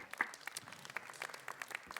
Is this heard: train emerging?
no